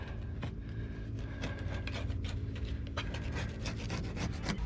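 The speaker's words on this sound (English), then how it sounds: "Now we're just going to scrape off this excess caulking." Scraper rubbing and rasping excess caulking off an RV wall during a tankless water heater install, a steady close run of short scraping strokes with no talking.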